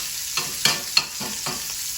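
An Italian sausage patty sizzles in a pan cooked without oil, with a soft steady hiss broken by three or four short scraping taps.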